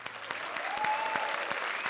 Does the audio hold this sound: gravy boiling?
no